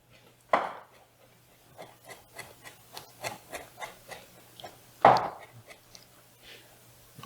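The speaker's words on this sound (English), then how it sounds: "Firmly press your hand on the top of the knife and just rock. Just to give it a nice chop." A chef's knife rock-chops fresh thyme on a cutting board: a steady series of soft rhythmic taps, framed by two louder thuds at the start and near the end, close and quiet.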